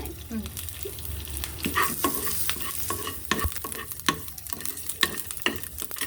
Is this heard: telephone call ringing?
no